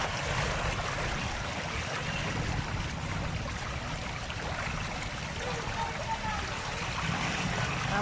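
Floodwater sloshes and splashes steadily around a pedicab crossing a deeply flooded street, a continuous close wash of churning water with low rumbling underneath.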